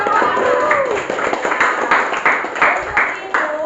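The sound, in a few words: applause for a student group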